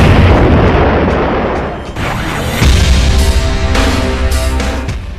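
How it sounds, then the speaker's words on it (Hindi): Heavy shelling from Russian rocket launchers in wartime Ukraine rumbles as loud, continuous booming and cracking blasts that overlap into a dense roar with sharper bursts near the end. "रूस की ओर से रॉकेट लॉन्चर से भारी बमबारी की गई।"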